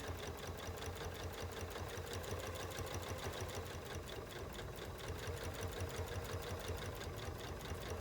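Sewing machine stitching quilt binding, a continuous, even rapid rattle of needle strokes heard alone and fairly quiet throughout.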